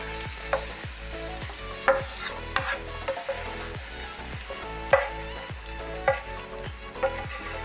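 Bitter gourd pieces fry in hot coconut oil, a steady sizzle broken by regular scraping stirs of a spoon against the pan, with no voices present.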